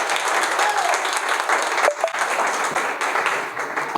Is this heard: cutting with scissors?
no